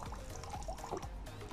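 Water squeezes and drips from a foam motorcycle air filter being wrung out by hand after cleaning, with soft, close trickling and squelching pours in a short burst.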